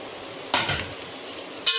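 Onions fry in oil in a pot, a faint steady sizzle with a couple of sharper bursts as they are stirred.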